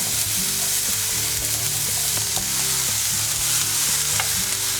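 Asparagus fries and sizzles steadily in a pan while being stirred, with repeated scraping strokes over a constant loud hiss, as part of a vegan black rice dish.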